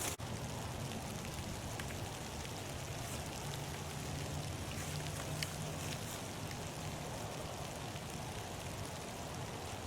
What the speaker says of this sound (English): Okay, so it's starting to rain out